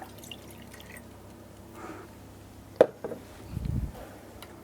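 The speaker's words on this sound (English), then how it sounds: "I'm just going to pop a little bit more water in there." Water is poured into rice cooking in northern Thai style, a brief splash and trickle after quiet kitchen ambience with a sharp knock. No one speaks over it.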